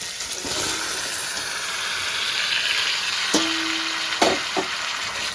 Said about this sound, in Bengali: এবার আমি ভেজে রাখা চিকেনটা দিয়ে দেব।